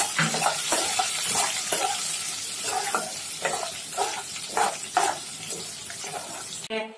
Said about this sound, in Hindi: घी के अंदर गोंद फ्राई कर रहे हैं।